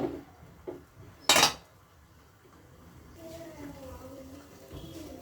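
A metal lid clanks down onto a cooking pan where shrimp and a halved tomato are steaming, one sharp loud clatter early on, followed by quieter kitchen rustling and a faint hum.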